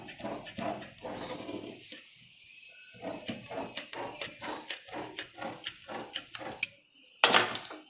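Scissors snip through extra fabric while a salwar is being cut, a quick run of close, crisp clicking cuts after a brief pause, ending with one louder rustle or snap.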